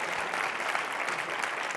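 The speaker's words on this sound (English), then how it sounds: "round of applause to you guys" An audience at a tech conference session applauds steadily, a dense continuous wash of clapping throughout the short stretch, with no voices standing out.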